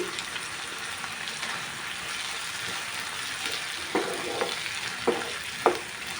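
Halved tomatoes fry and sizzle in a pan for a cauliflower and moong dal curry, with a steady hiss under close stirring and a few sharper scraping clinks of the spoon near the end.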